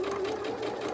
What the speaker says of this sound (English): I'm letting the machine feed it through